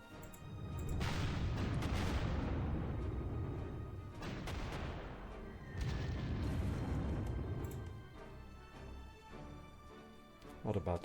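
Heavy booming explosions from level bomber strikes in the World War II strategy game Panzer Corps, several deep rumbling blasts rolling one after another, loud and close, then fading out.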